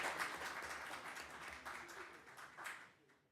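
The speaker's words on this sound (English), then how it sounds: "Yeah, go ahead and applaud." Council meeting audience applauding a staff member's recognition, a moderate wash of clapping that holds steady for about three seconds, then fades.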